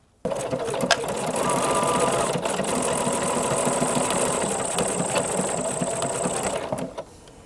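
Sewing machine stitching with an embroidery foot, a close, steady mechanical whir and rapid needle chatter starting abruptly and running evenly for about seven seconds before stopping.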